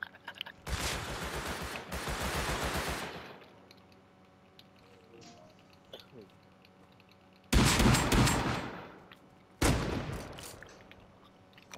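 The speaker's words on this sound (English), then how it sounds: "Why are you shooting at people?" Bursts of gunfire in the video game Rust: a long sustained volley of rapid shots, a quiet gap with faint background noise, then two more loud, close bursts of automatic fire.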